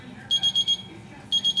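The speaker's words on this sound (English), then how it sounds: "My alarm's going off." An alarm clock goes off with two quick bursts of rapid, high-pitched electronic beeps, four pulses and then three after a short pause, heard close and clear.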